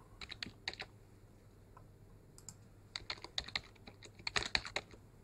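Bursts of clicky keystrokes on a computer keyboard during a Linux installation, close and quiet, with short pauses between irregular clusters and a rapid flurry near the end.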